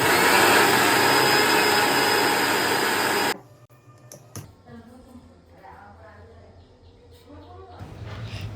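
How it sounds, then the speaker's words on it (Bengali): Mixer grinder blending mushrooms into a paste for cream of mushroom soup, a loud steady motor whir for about three seconds that cuts off abruptly, followed by quieter kitchen sounds and light clatter. "এরপর আমাদের মাশরুমগুলোকে মিক্সার গ্রাইন্ডারে ভালো করে ব্লেন্ড করে নিতে হবে।"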